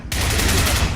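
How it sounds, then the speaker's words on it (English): Video game gunfire in a PC shooter: a sudden, loud, dense burst of rapid shots that fills the whole second, close and harsh, with no talk. "Someone's shooting me."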